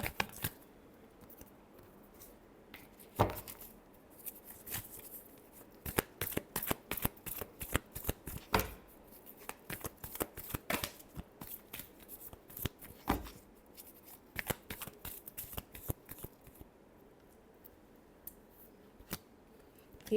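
Tarot cards being shuffled by hand, a long series of sharp, crisp riffling snaps and clicks in irregular bursts, close and fairly quiet, with no talking.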